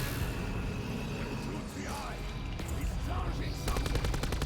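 Rapid sustained gunfire in Black Ops 4 Zombies during the Voyage of Despair map, continuous dense shooting with a burst of sharp evenly spaced shots near the end, a voice talking over it.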